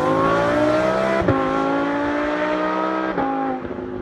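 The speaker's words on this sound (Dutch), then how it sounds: "je trapt het gas vol in, laat de koppeling omhoog komen en de auto laat in één keer alle kracht los" A 600-horsepower car launches from a standstill at full throttle, its loud, close engine note holding steady with two brief dips like gear shifts, and no voices.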